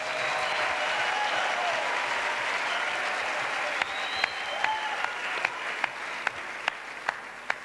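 Large crowd applauding and cheering at an evangelism crusade, a steady roar of clapping throughout, with sharper rhythmic claps punctuating the second half.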